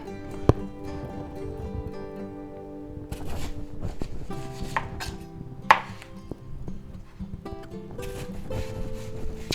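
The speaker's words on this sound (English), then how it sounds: "let's go ahead and cut up our onion" A knife chopping an onion on a cutting board, heard as irregular, sharp, close taps that come in short bursts over a steady tonal background, with no speech.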